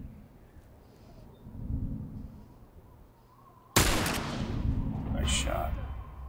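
A gunshot in The Last of Us, one sudden loud blast that cuts in partway through and leaves a rumbling, noisy tail, after a stretch of quiet low background rumble.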